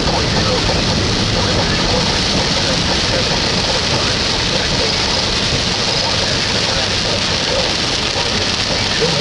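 Heavy rain and hail pour down during a tornado storm, a loud, dense, unbroken roar that runs steadily throughout.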